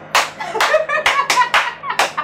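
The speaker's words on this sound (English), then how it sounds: "Clap for it." A few people clap in short bursts, about five sharp clusters of claps spaced across a couple of seconds, close and loud in a casual group setting.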